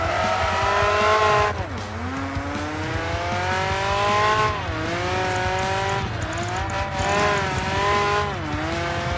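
Race cars in the video game Project Gotham Racing 3, including a GT1 car and a Porsche, roar loudly and continuously. Engine pitch climbs through repeated gear shifts, with tire squeal mixed in and no speech.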